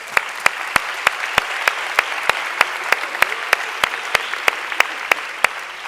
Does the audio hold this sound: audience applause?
yes